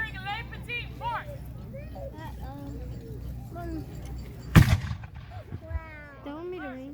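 A small pirate cannon, Le Petit Fort, fires one sharp, loud boom with a brief rumbling tail, set among people talking and chattering nearby before and after the shot.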